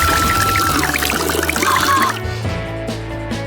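Water is poured in a steady splashing stream for about two seconds, loud and close, then stops and leaves a quieter background.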